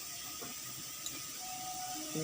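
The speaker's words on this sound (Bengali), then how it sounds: "আলু ভাজা হচ্ছে" Potato slices fry in a pan with a steady, even hiss of sizzling oil. A few faint clicks sound over it, and a voice starts just at the end.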